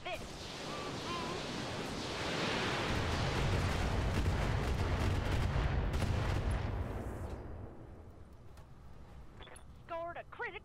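Heavy weapon fire in the mech video game Roguetech booms and rumbles for several seconds as a dense, roaring blast of noise that swells and then fades, with faint game effects trailing after.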